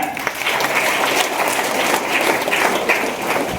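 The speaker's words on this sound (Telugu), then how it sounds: "క్లాప్ కొట్టాలి గట్టిగా" Polytechnic students at an orientation event clap loudly together, a thick, sustained burst of applause filling the hall without pause.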